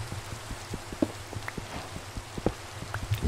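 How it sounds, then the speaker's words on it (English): Steady rain in the Minecraft video game, a soft continuous hiss of falling drops with scattered small pattering taps, fairly quiet and alone with no talk. "Personally, I'm a big fan of the rain in Minecraft."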